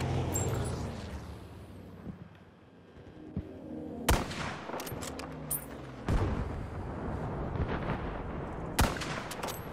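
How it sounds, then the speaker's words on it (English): Sharp sniper rifle shots in the video game Battlefield V, several loud cracks ringing out at intervals over a rumbling battlefield background of distant gunfire. "Somebody's just sniped me."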